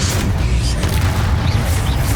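A Bombarda explosion spell detonates in Hogwarts Legacy, a heavy sustained rumble with booming low weight and some crashing debris mixed in.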